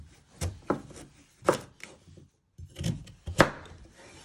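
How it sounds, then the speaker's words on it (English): A kitchen knife chops a sweet potato into pieces on a board: about six firm, close thunks in uneven pairs, with short pauses between the cuts. "then you want to chop it in half again, then you want to chop it into 3"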